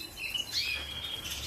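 Goldfinches and canaries chirp in an aviary of breeding pairs, bright high twitters coming in short bursts close to the mic, with a low murmur of background noise underneath.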